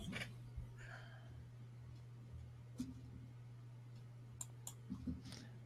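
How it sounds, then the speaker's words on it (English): Soft, sparse keystrokes tap on a computer keyboard in a quiet room over a steady low electrical hum, with a few sharper clicks near the end. "because I'm only typing"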